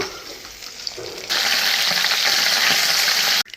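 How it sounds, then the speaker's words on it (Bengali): Fish pieces fry in hot oil in a pan, a steady crackling sizzle that jumps louder after about a second and holds strong, close up, before cutting off abruptly near the end. "তো মাছ ভাজাগুলো একটু ভেজে নেব"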